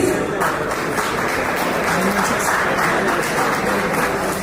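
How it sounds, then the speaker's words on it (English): Audience applause at a medical awards ceremony, a dense, steady wash of clapping held at an even level for several seconds, with faint voices beneath. "Big round of applause, please."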